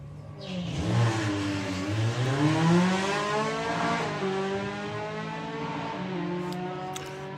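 A VW Corrado drag car launches and accelerates hard down the strip at Santa Pod, its engine note rising steadily through the gears as it pulls away, loud at first and then holding at a distance.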